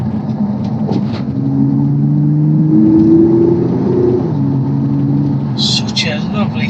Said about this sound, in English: Such a lovely smooth engine.